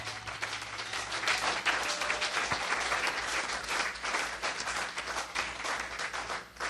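A church congregation claps and applauds in acclaim during a worship service, a dense continuous wash of hands throughout, moderately distant, with a faint voice briefly under it.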